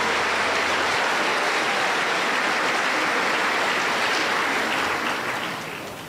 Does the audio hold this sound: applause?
yes